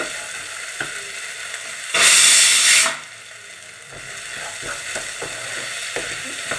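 Potatoes and green peas sautéing in a pan for a North Indian aloo matar gravy: a soft background sizzle with a loud hissing burst in the middle, then light clinks and scrapes.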